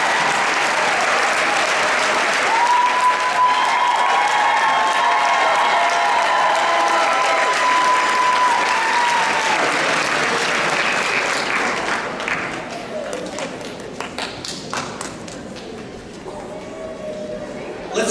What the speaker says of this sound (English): Let's give these amazing educators now another round of applause.